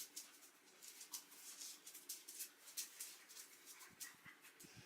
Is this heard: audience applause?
no